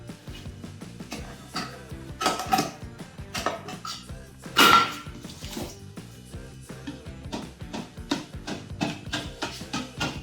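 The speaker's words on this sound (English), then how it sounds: "We've given the paint a really good stir" A tool clanks and knocks repeatedly inside a metal can as paint is stirred, a busy run of close scraping and tapping with one louder clatter partway through.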